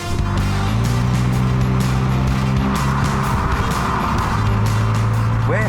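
A BMW, either an X1 or a 2 Series Gran Coupe, pulls away with a steady engine hum and tonal drone rising in pitch near the end, heard from close by with no talking.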